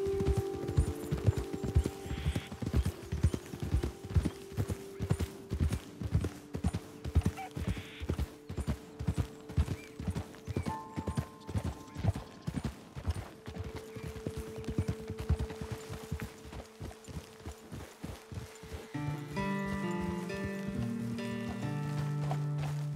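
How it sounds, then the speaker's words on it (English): Horses' hooves clip-clop in a steady, rapid rhythm while riding in Red Dead Redemption 2, loud and close for most of the stretch, then give way near the end to a denser mix of game ambience and tones. "Okay, let's dismount here. Best leave the horses back a bit."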